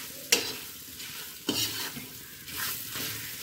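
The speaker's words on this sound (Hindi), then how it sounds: "अब इसमें अच्छे से जो है हम मिक्स कर लेंगे अपने" Thick green chili pickle stirred into masala with extra oil in a pan, sizzling steadily while a spoon scrapes in a few distinct strokes, close and clear with no voices.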